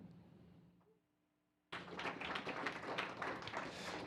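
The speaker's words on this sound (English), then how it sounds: "I decided it was worth 2 claps, this one" A pair of hand claps rings out sharply after a quiet pause in an online all-hands meeting, followed by a burst of bright, crackling noise that persists to the end.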